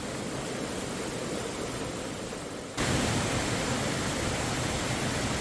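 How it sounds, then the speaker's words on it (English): A waterfall and moss-lined creek near Codfish Falls in Foresthill, California give off a constant broadband rush of flowing water. The roar grows noticeably louder partway through and holds steady to the end. "I think I hear the waterfall out there though"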